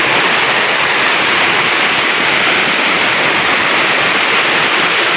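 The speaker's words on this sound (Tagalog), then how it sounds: "malakas ang ulan" Dense, steady broadband rush of heavy rain pouring without a break, loud and close, with no voices.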